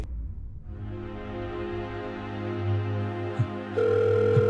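A telephone rings on a crime thriller short film's soundtrack: a steady, sustained electronic tone that continues unbroken and shifts to a brighter, higher ring near the end, with no voices.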